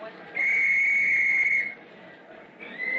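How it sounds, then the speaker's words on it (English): A whistle is blown as an old-time radio sound effect at a firefighters' equipment display. A shrill, steady blast lasts about a second and a half, and a second blast starts just as the clip ends. "Soon as I blow my whistle."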